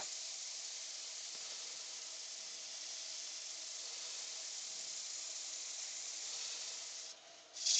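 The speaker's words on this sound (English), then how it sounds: "Right, so that's sanded up to 400 now." Steady abrasive hiss of sandpaper held against a spinning wooden bowl on a woodturning lathe, working up to 400 grit, continuous and close for several seconds before easing off and rising again at the end.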